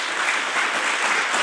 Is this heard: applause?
yes